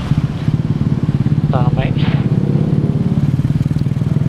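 A Suzuki Shogun SP 125 racing-style motorcycle being ridden in the late afternoon, its engine a loud, steady buzzing drone throughout, with a brief spoken word over it.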